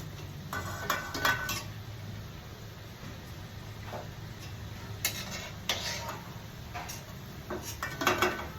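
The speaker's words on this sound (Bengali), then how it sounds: "বন্ধুরা দেখুন আমার কোপ্তা ভাজা হয়ে গেছে এবার আমি তুলে দিচ্ছি" Fried banana kofta lifted out of a frying pan, light metallic clinks and taps of a spoon against the pan at irregular intervals over a low background of frying.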